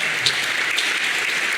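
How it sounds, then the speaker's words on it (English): Audience applause rings out after a presentation at a D-Day 80th anniversary event for a PBJ Mitchell airplane, a steady wash of many hands clapping at moderate loudness for under two seconds. "I'd like to give a round of applause"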